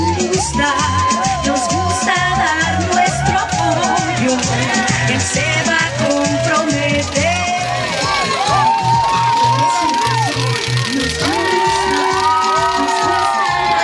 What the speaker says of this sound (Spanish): Las porras, los gritos y los bailables permanecieron presentes entre los asistentes